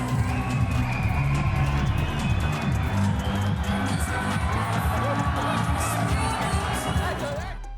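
A boxing arena crowd roars and cheers as a fighter dances his way into the ring. The cheering is loud and continuous over a pounding, rhythmic low bass beat for about eight seconds.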